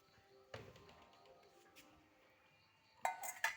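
A bowl is set down to be filled with milk: one soft knock, then a few sharp, bright ceramic clinks near the end, quiet and close with no other sound.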